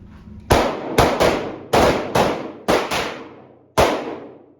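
Handgun shots fired outdoors after a draw from a holster bag, seven sharp loud cracks in quick pairs and singles, each with a short ringing decay.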